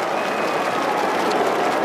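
Adelaide Crows fans in the stands cheer at an AFL football match, Adelaide against Carlton, producing a steady wash of crowd noise and scattered clapping, loud and continuous throughout.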